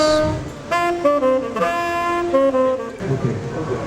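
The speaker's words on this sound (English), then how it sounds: "So, John, let us hear your saxophone" A saxophone plays a short melodic phrase of sustained notes that shift in pitch, fairly close and clear, stopping near the end.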